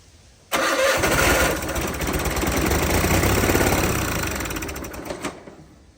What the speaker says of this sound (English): So right now we're fixing to see if it fires over with starting fluid.